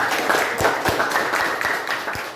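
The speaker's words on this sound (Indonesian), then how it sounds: "Kita berikan aplaus yang meriah" An audience in a classroom setting gives a short round of applause, a brisk patter of many hands clapping at moderate loudness, with a few sharper individual claps standing out.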